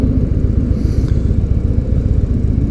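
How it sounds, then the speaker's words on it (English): A Victory Gunner motorcycle engine rumbles loud and close while riding through town, a deep, throbbing low-pitched pulse holding steady throughout with wind buffeting over it. "It's a good sounding bike though."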